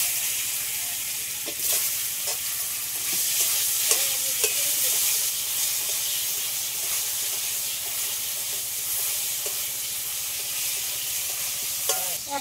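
Dried chilli, panch phoron, bay leaves and chopped raw mango sizzle steadily in hot oil, a continuous bright frying hiss with occasional scrapes of a spoon stirring the pan, close and fairly loud with no voices.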